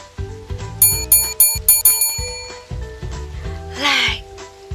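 A bright notification bell chimes in a quick run of ringing strikes over clicking mechanical ticks, closing with a short whooshing swish.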